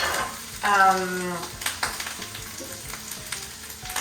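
Pork, garlic and ginger frying in a pan for lettuce wraps, a close, steady sizzle with stirring and light clattering of utensils, and a brief tonal squeak early on.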